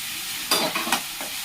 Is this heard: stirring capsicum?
yes